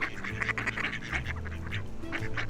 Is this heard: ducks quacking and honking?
yes